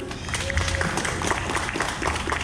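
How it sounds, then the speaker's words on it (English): A theme-park crowd at a live bird show at Animal Kingdom applauds for a volunteer, producing a steady, diffuse patter of clapping that holds throughout, moderately loud amid general crowd noise. "let's give her a round of applause for helping"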